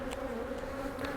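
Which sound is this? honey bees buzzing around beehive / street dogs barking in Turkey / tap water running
honey bees buzzing around beehive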